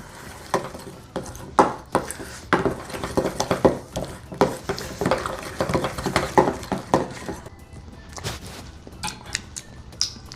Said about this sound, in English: as well as 2 tablespoons of honey. And we're just gonna mix that together.